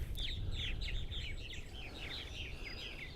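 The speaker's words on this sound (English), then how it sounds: "the Purple Martin action this morning here at our site makes it worthwhile." Faint, busy chirping and twittering of purple martins repeats throughout over a low background rumble, several birds calling at a distance, on eastern Long Island, New York.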